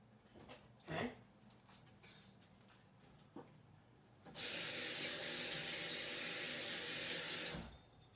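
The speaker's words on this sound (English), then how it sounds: "I've got to go rinse my hands off." Kitchen tap water running into a sink while hands are rinsed, a steady loud hiss of flowing water that starts abruptly and cuts off a few seconds later, after some quiet clatter.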